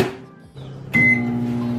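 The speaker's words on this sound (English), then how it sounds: "Put that on the microwave." A kitchen microwave oven starts up with a beep and then a steady loud electric hum, close by.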